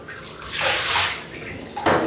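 A one-year-old baby splashes water in a bathtub, making close, uneven sloshing swells and then a sharp splash at the end.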